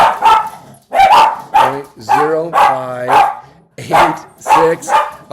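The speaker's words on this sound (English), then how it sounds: "my dog is going to bark any second here" A pet dog barks at home in loud, close, repeated yaps, each bark separated by short pauses, some with a whining, drawn-out tone.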